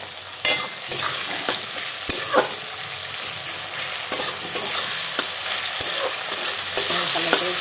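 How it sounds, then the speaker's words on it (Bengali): Garlic and spices are sautéed in a frying pan, with a spatula knocking and scraping in an irregular rhythm over a continuous loud sizzle, close up. "কষিয়ে নেব"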